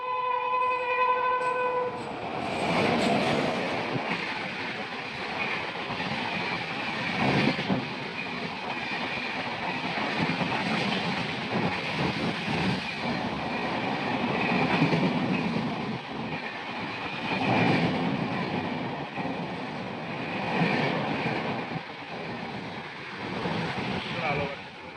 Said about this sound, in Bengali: ওদিক থেকে চলে আসছে 22-502 কন্যাকুমারী ডিব্রুগড় বিবেক এক্সপ্রেস